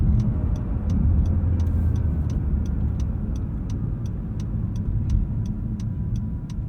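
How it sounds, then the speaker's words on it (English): Turbocharged engine and exhaust of a 2020 Acura NSX pulling under acceleration, a steady muffled rumble heard from inside the car, with a faint regular ticking laid over it and no talking. "I understand that this engine is soaking up a lot of the sound, exhaust sound, with the turbos"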